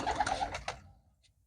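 Pigeons at a market stall give a short burst of cooing and low throaty calls, fairly close, fading into near silence after about a second.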